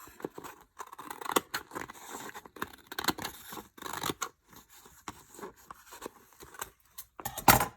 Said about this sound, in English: You just have to cut a little bit just to get that glue layer off.